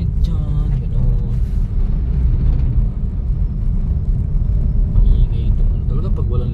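A vehicle runs with no load on a road in San Mateo and Montalban, Rizal, its engine loud and rattly, a steady close rumble throughout with brief higher noise on top.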